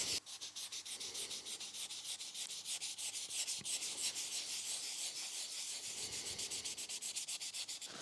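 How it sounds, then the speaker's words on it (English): Rhythmic back-and-forth wet sanding with fine sandpaper and water, steady and close, with a slightly damp, hissing texture to each stroke. "start sanding again."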